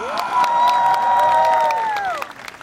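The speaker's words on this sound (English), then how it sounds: "a solid round of applause for Firefighter Varela." Applause and cheering at a City of Miami fire academy graduation for a new firefighter: a burst of close clapping under a sustained high whistle-like tone that fades into scattered claps.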